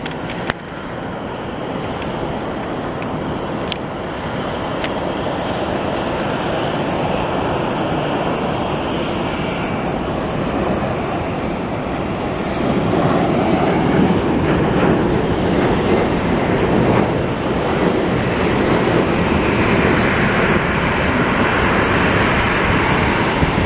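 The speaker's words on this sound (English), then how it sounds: "That loud noise is a 737 by United just now getting to its gates on the far side of Terminal" A loud, steady jet engine roar rumbling nearby, broadband and continuous, swelling slightly toward the end as a United Boeing 737 taxis to its gate.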